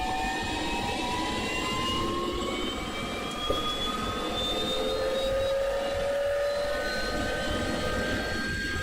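Twin engines of an EC135 helicopter in the Flightgear simulator run at a steady whine, with rising tonal turbine sounds over a constant rumble and no voices.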